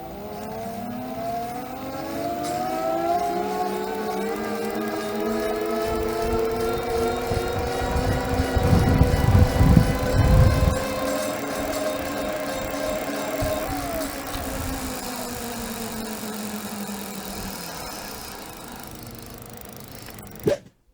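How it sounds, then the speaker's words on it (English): A Touroll U2 electric bike's hub motor on a steel frame, recorded up close, winds up in pitch as it accelerates and holds a steady whine for about twenty seconds, with rumbling road or wind noise swelling midway; no talking. "Let me put the microphone next to the motor, you will hear the acceleration better"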